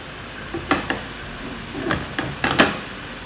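Spiced masala for a fish curry sizzles steadily in a hot pan while a spoon scrapes and stirs it in several close, clattering strokes, with no voices over it.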